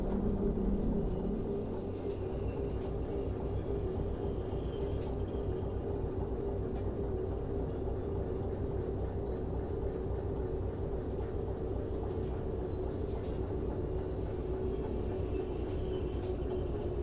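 Locomotive in the train simulation game Derail Valley, a steady low engine rumble and drone that continues evenly throughout at a moderate level.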